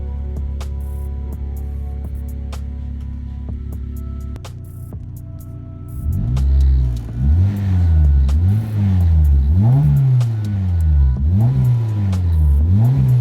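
A Honda K20 engine in an EK car idles steadily, then revs up in repeated rising and falling bursts as it sets off on a drive, loud and close with no talking.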